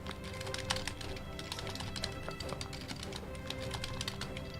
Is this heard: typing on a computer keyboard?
yes